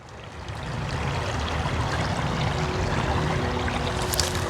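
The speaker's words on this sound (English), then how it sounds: "Hopefully my mic is picking up how the water sounds." A river in a Michigan preserve flows beside a trail, a constant broadband rush of moving water that swells slightly at the start and then holds steady, with no talking.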